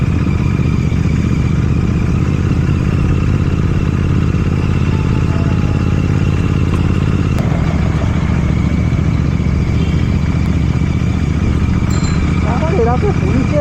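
A Royal Enfield GT650-style motorcycle with a modified silencer rides at low rpm on the road, with a steady loud engine drone and exhaust rumble, with a voice talking over it.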